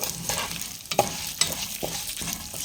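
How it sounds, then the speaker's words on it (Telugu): Toor dal drops into hot oil for a tempering, with a close, loud crackling sizzle and rhythmic scraping strokes as it is stirred in the pan. "కందిబేడలు అయితే వేసేస్తున్నాను పోపులో"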